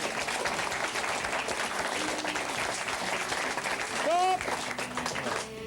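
Audience applause fills a live comedy show, a steady crackle of clapping with voices and a sliding, whistle-like vocal sound rising through it, fairly faint and continuous.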